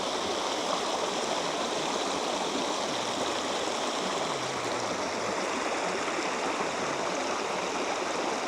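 A small water cascade in Seven Ladders Canyon, Romania, rushes in a constant, even splashing hiss, close by and unbroken from start to finish.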